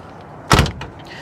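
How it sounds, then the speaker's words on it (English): The heavy door of a 1973 Buick Regal shuts with a single solid, close thud against a quiet background. "That door's a little heavy."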